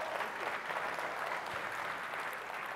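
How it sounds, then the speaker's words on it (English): Applause at the 10th NAR-INDIA annual conference as an audience member is cheered: a dense, even wash of many hands clapping, sustained for the whole stretch with no talking over it. "Give Rommel a round of applause"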